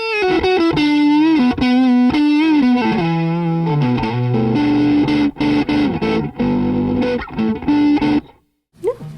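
Loud, heavily distorted electric guitar through stacked overdrive pedals, including an Etana, playing sustained chords and riffs, thick and saturated, continuous for several seconds before cutting off.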